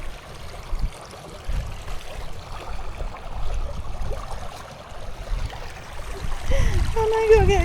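A small river flows nearby in rural Sweden, a soft, irregular trickling and rushing of water that swells toward the end, with faint tonal squeaks near the close.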